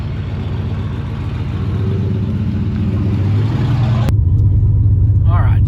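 A 2004 Chevrolet Silverado pickup fitted with new LED lights drives along, its steady low engine rumble and road noise continuous throughout, with a voice briefly audible near the end.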